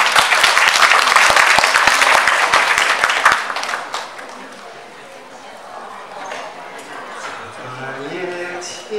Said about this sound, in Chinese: 请各位拍拍手